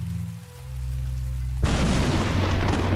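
Rain hisses steadily in a horror itch.io game when a loud thunderclap crashes in and the downpour swells into a dense, roaring wash that stays close and loud to the end.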